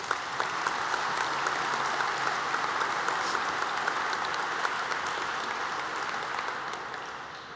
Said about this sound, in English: ask you to join me in giving him a round of applause